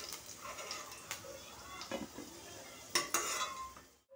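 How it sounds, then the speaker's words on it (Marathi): Potatoes frying in a pan for a mixed vegetable dish, with soft sizzling and several sharp clinks of a utensil stirring against the pan, faint and close. "इथे बटाटे छान असे आपण फ्राय करून घ्यायचे।"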